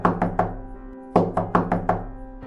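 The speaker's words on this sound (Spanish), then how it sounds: "escucharon golpes llamando a la puerta" Knuckles rap on a wooden door in two sharp groups of three knocks each, separated by a short pause, close and loud in an otherwise quiet room.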